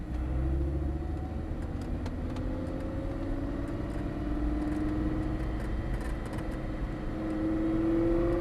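A Lamborghini Gallardo engine on a driving course, heard from inside, climbs steadily in pitch as the car accelerates, a smooth rising drone over a constant low rumble.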